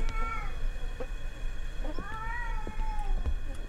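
A cat meows in a video game, several short, clear meows with rising and falling pitch, moderately loud over a low background hum.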